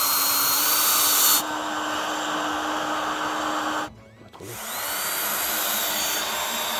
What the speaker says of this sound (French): On peut ensuite venir mettre en place le contre-chevron et le visser.